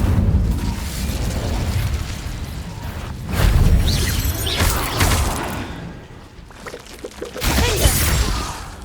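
Incendio fire spells cast in Hogwarts Legacy, several loud whooshing bursts with booming flares and crackling tails, spaced a few seconds apart over a steady game backdrop.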